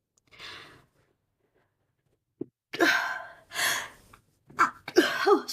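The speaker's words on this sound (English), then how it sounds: "More sneezing." A sneeze from a person at a crafting table comes as a brief burst early on, then several louder breathy bursts follow, close and alone with no talk.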